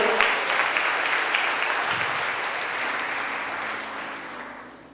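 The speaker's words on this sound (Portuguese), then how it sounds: "Vocês podem aplaudir o Senhor." A church congregation applauds during a worship sermon, a loud, full crowd clapping that holds strong and then gradually tapers off.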